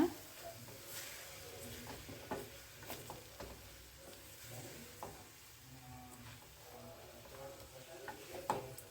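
Chutney frying in a pan after soaked tamarind is added, with a faint soft sizzle beneath repeated scraping and tapping of a spoon stirring the thick mixture, quiet and close, with no voices.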